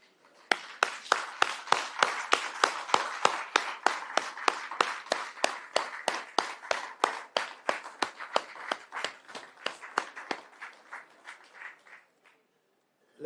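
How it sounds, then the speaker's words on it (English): Audience at a school title-handover ceremony clapping in a steady, brisk rhythm, sharp evenly spaced claps for about twelve seconds that fade slightly and then stop. "We have to stand up and give them the round of applause they deserve this afternoon."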